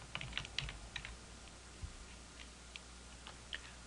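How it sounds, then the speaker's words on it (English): Keys clatter on a computer keyboard as a spelling is corrected, a quiet, irregular run of light taps and clicks close by with no talking. "I'll use the keyboard to correct the spelling."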